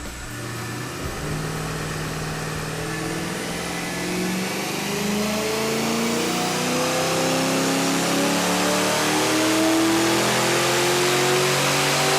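A tuned car engine revs on a dynamometer during a wide-open-throttle run, its pitch climbing steadily over about twelve seconds as the engine accelerates, loud and close with no talk.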